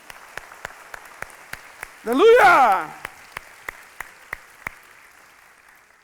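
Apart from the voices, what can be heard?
church congregation applauding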